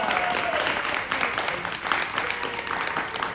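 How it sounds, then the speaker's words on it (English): Theatre audience applause at a talk-back with the creators of Common Threads from Looking for Lilith Theatre Company: steady, moderately loud clapping from a modest crowd with a voice faintly underneath. "let's applaud our audience"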